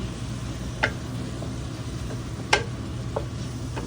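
Pancit being stirred in a frying pan, with a low sizzle beneath a few sharp scraping strokes of the utensil against the pan, quiet and close with no talking.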